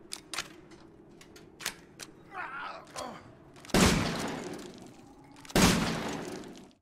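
Semi-automatic shotgun reloading in Resident Evil Village, shown as a series of sharp mechanical clicks and shell insertions followed by two louder metallic racking clacks, close and alone without talk.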